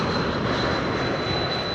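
Steady high-pitched whine from an Airbus A220 jet engine at Schiphol Airport, a sustained whistle tone over a broad, constant roar, heard alone and fairly close.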